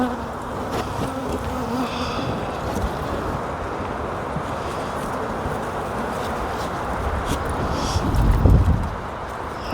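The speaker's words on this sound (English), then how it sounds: "This is when you just let honeybees do what they need to do." Honeybees hum steadily around an open beehive during inspection, a dense, continuous buzz close by with a brief louder swell near the end and no talk.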